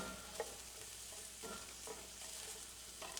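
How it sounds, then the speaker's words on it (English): Thinly sliced onions sizzle steadily in hot oil for chicken tinga, a soft continuous crackle with occasional stirring scrapes, close and fairly quiet, no voices. "you fry them in oil, and you cook them down until they surrender"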